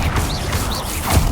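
A Confringo fire spell blast in the Hogwarts Legacy video game: a rough, noisy burst of magical crackle with brief whooshing swirls, ending in a low thud near the end, all under game ambience.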